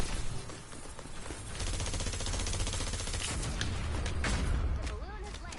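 Rapid bursts of automatic gunfire in Fortnite Save the World, dense crackling volleys that run almost the whole time at moderate level, with faint game effects mixed in.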